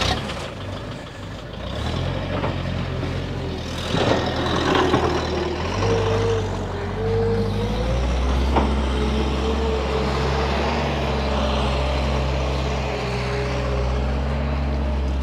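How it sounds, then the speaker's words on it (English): A skid steer loading manure on a farm, its diesel engine a steady loud rumble with rising and falling revs and some clanking of the bucket, heard alone without talk. "thankfully we have this skid steer. Can pick up the manure and get it loaded."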